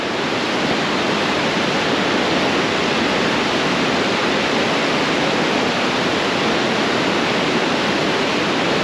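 Rushing rapids of the Niagara River along the White Water Walk, a loud, steady roar of churning whitewater that fills the whole stretch without a break, close and unrelenting.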